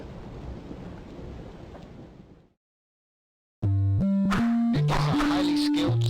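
Steady rain hiss with a low rumble from the Dracula VS The Ninja On The Moon game fades out over about two seconds. After a brief silence, loud stepping electronic game music starts.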